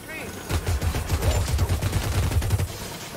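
A Gatling gun fires in Warhammer Vermintide 2 as one rapid, loud burst of rattling shots that runs about two seconds, then cuts off.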